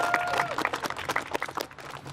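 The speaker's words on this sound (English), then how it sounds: "Yes, let's give them a round of applause." A crowd claps through a round of applause at an outdoor White Cane Walk press conference, the clapping moderate and uneven over a background murmur, with a brief tonal whistle early on.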